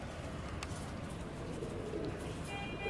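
Pigeons in a kept loft coo softly and faintly over a steady low background hiss, with no voices over them.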